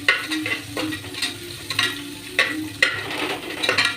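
Onions fry in a pan with curry leaves and chili, a soft continuous sizzle broken by intermittent scraping stirs, close up with no voices.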